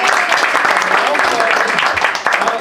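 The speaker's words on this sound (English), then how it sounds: "How about giving him a round of applause?" Applause at a private party fills the room, a steady, dense round of many hands clapping at close range throughout.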